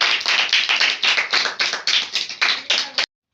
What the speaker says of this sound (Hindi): शाबाश, जोरदार तालियां बजाओ।